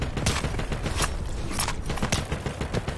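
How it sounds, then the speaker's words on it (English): Rapid bursts of machine gun fire in the WWI shooter Screaming Steel on the Somme map, a dense crackling fusillade with several sharp louder shots standing out, steady and continuous with no voices. "It's a bloody machine gun!"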